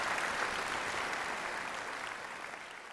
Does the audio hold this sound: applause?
yes